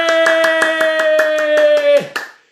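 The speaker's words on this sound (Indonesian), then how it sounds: "Ayo, tepuk tangan dulu dong. Tepuk tangan dulu, kasih suara." A seminar audience claps in quick, even unison, about a dozen crisp claps over a sustained electronic tone, ending with a brief trailing flourish.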